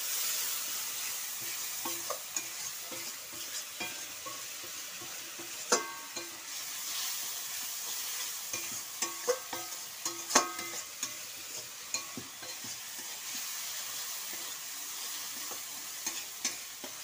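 Tomato paste and spices sizzle in a pan for a vegetarian fish curry while a spoon stirs, with a steady frying hiss and scattered scraping clicks. The sound runs throughout with no talking.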